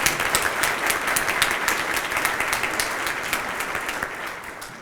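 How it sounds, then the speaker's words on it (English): An inauguration audience breaks into sustained applause, dense clapping from many hands holding steady for several seconds before starting to thin toward the end. "Round of applause."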